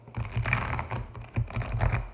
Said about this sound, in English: So, yeah, my shuffling becomes robotic.